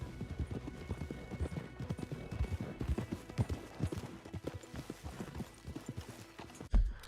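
Horses trotting in Red Dead Redemption 2, a steady run of close hoof clops on ground that carries on throughout and ends with a single heavier thump.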